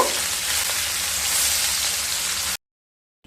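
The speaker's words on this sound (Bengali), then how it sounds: "একটা সাইড ভাজা হয়ে গেলে উল্টে দেব। দুটো সাইড ভাজা হয়ে গেছে, এবার তুলে নেব।" Pomfret fish fry in hot oil in a pan, a loud, steady sizzle close up for a couple of seconds before cutting to silence.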